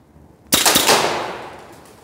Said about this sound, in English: Let's try an offhand shot.